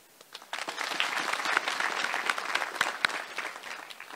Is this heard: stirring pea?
no